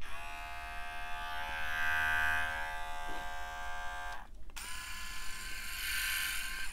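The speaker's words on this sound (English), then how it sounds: "I think this one sounds a little bit beefier, but I don't know, I've never had any other electric shavers" A Hatteker rotary electric razor running close by, a steady high-pitched motorized buzz with a brief pause before switching back on at a slightly different pitch.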